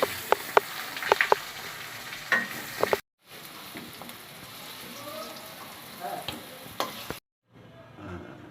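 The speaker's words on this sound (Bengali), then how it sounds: "পরে আলুগুলো ভেজে নিচ্ছি।" Potatoes frying in oil: close crackling sizzle with sharp pops and spits, interrupted by two abrupt cuts before the frying hiss resumes faintly.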